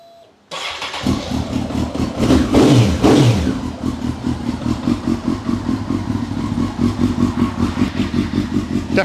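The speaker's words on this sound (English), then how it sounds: "Definitely a much deeper tone to the exhaust note." A 2002 Honda CBR954RR Fireblade with an aftermarket exhaust starts and revs hard with a deep exhaust note, then settles into a steady, throbbing idle, loud and close.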